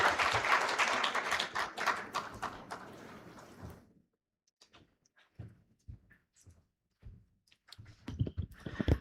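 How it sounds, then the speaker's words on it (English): Audience at a health integration summit clapping to welcome an international guest, a dense burst of applause for about four seconds, then near silence with scattered taps and faint shuffling. "Let's give her a round of applause as she comes"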